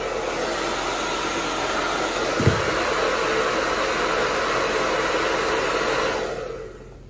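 A hair dryer blows steadily and loudly on a crystal plastic craft piece, a continuous close whoosh lasting about six seconds with one brief thump partway through, then the airflow cuts off and fades.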